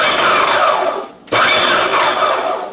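A food processor blitzing sugar with lemon rind whirs loudly at close range in two pulses, with a brief drop in power between them.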